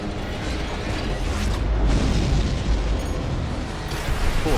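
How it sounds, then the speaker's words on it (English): A sustained, rumbling explosion in Armored Core VI: Fires of Rubicon roars continuously for several seconds, loud and dense, with debris-like crackle over a deep low-end boom. "Cool explosion, by the way."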